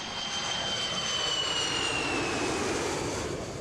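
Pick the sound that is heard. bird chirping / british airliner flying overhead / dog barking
british airliner flying overhead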